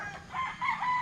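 A gamefowl stag crows in a single drawn-out call that swells and holds across the whole moment, loud and close with no talk over it.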